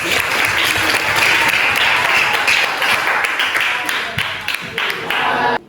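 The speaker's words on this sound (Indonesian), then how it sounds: "berikan aplaus" Audience applause at a teachers' training workshop on using flipbook ICT media, a dense, loud burst of many hands clapping steadily for several seconds before cutting off abruptly.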